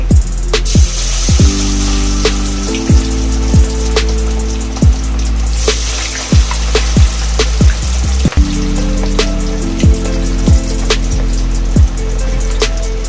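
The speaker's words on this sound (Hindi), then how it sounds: "मच्छी फ्राई करेंगे।" Rohu fish sizzling as it fries in hot oil in a pan, a steady loud crackle with frequent sharp pops and spits throughout, with no talking.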